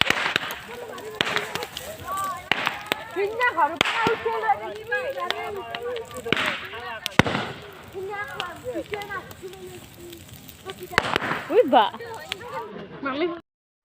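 Sharp firecracker bangs burst irregularly, some loud and close, over lively crowd chatter and voices throughout, on the night of Uruka at Bhogali Bihu.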